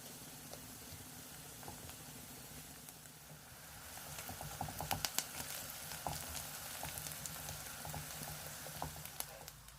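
Chopped onions frying with diced tail fat in a pan, a soft continuous sizzle with scattered pops and crackles that grow busier partway through, quiet and close with no talk.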